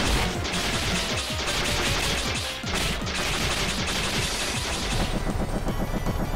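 Dense, rapid video game gunfire from Iconoclasts crackles without pause for several seconds, loud and close, with heavier crashing impacts mixed into the barrage.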